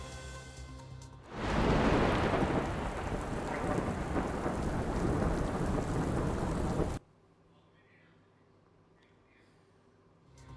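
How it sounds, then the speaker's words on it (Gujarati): Steady, heavy monsoon rain pours down loudly for several seconds, then cuts off abruptly, leaving quiet background. "આવી રહ્યો છે વરસાદ, થઈ ગઈ છે ચોમાસાની ભારતમાં એન્ટ્રી"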